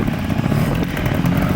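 A trials motorcycle ridden through a competition section, its engine a steady, busy drone with small throttle blips and clattering, loud and close for the whole moment.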